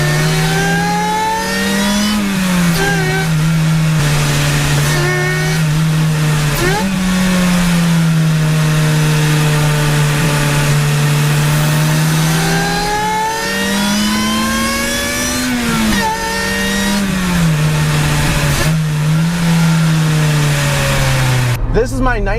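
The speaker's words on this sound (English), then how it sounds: "Let's start this review with some Supercharger Noise." A supercharged 1998 Acura Integra GSR with a Roots-style blower revs loudly and close, its engine note rising and falling through several sweeping pulls with a constant whine over it.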